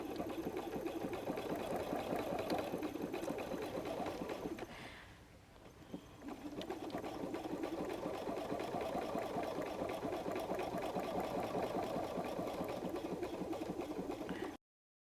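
A sewing machine runs a triple zigzag stitch on a messenger bag, a steady mid-pitched motor drone with a brief pause midway before resuming and running on evenly.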